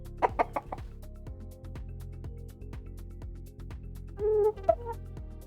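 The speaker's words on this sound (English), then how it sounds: "The new sound variant of chickens is called picky." Minecraft chickens with the picky sound variant give a quick burst of clucks at the start and another short clucking cluster near the end, over a steady background music bed.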